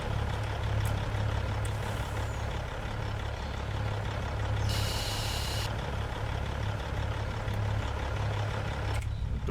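A video-game truck idles with a steady low engine rumble, and a loud burst of air-brake hiss from the trailer and tractor rushes out for about a second midway before the engine drone carries on alone.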